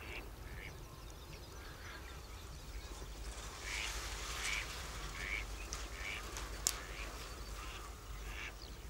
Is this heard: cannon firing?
no